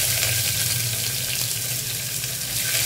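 Onions sauté in oil with cinnamon, cloves and bay leaf, making a dense, loud, continuous hiss close to the pan that stays even across the short stretch.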